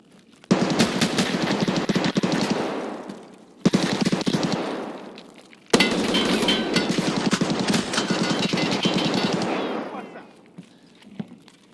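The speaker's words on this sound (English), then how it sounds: "So much shooting." Rapid automatic gunfire in a shooter video game comes in three dense bursts separated by short pauses. It is loud and close, with faint trailing sounds after the last burst.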